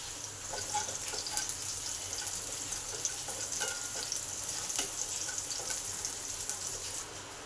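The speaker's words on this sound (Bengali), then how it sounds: "কাঁচা লঙ্কা, কালো জিরে আর রসুন কুচিগুলোকে ভালো করে ভেজে নেব" Green chilli, kalonji and chopped garlic frying in hot oil for spiced aubergine pickle, a steady broadband sizzle with faint scattered crackles and light stirring, continuous and fairly quiet, with no talking.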